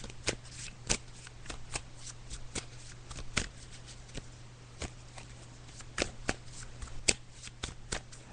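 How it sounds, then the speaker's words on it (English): Crisp riffling of tarot cards being shuffled, a steady run of sharp flicks and taps close to the microphone, with a faint low hum underneath. "So I'm just shuffling the cards now."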